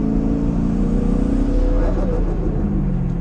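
A turbocharged Camaro's engine revs and accelerates on a cold winter drive, a loud close roar with rising harmonic tones and a few small crackling backfires as the pitch climbs and then drops.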